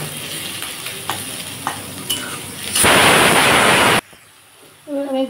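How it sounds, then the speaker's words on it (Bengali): Ginger and garlic paste fries in a pan with a steady sizzle and several sharp stirring clicks, then bursts into a loud, roaring sputter for about a second before cutting off abruptly, followed by faint background tones. "আমি এর মধ্যে এবার আদা পেস্ট, রসুনের পেস্ট দিয়ে দিলাম। এবার এটা একটু ভালো করে একটু ভাজা ভাজা করে নেব।"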